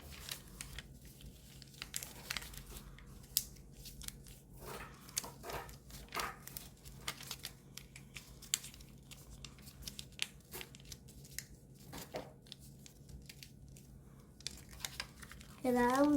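Paper being folded into a ninja spinning top origami: soft crinkles, creases and light taps come in scattered bursts, close and quiet, with a voice speaking throughout.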